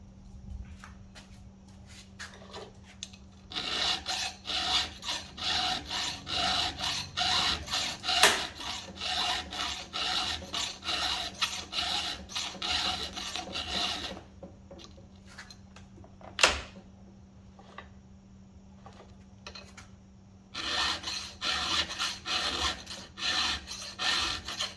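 A hand file sharpens chainsaw chain teeth, rasping in quick rhythmic strokes that come in long bursts separated by brief pauses, close and clear.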